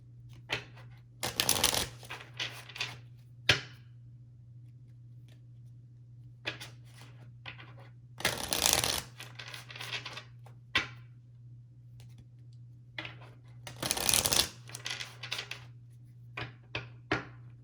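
Romance Oracle cards being shuffled close up, in three bursts of riffling with light card taps and handling between them, against a low steady hum and no talk.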